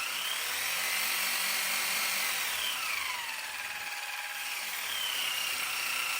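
The small electric motor of a model Mercedes-Benz G-63 AMG 6x6 whines steadily on cruise control, a close, continuous high-pitched hum that sags slightly in pitch midway before rising again.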